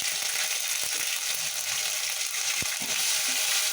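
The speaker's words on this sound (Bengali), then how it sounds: "আদা দেওয়ার পর খুব তেলে ছিটেটা বেরিয়ে যায়" Ginger paste and turmeric hitting hot oil while cooking Bengali sweet-sour aloo dum, a continuous bright crackling sizzle close up with scattered pops and spits, no talk.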